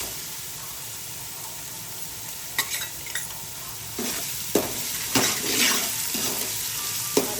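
Tomatoes added to a pan of fried ginger-garlic paste for dalcha, a low background hiss that swells into louder sizzling with several scraping stirs in the second half.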